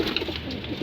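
Pigeons coo in a loft after feeding, soft rolling coos repeating close by under a faint background murmur, over in under a second.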